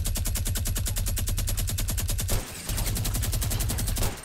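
Loud, rapid automatic gunfire in a Fortnite Battle Royale skirmish, a continuous evenly spaced burst that breaks off briefly, then resumes at close range.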